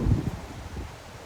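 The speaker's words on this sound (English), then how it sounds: "it's also very windy out here" Gusty wind buffets the microphone with low rumbling bursts, strongest at the start, then settling into a steady, softer blowing.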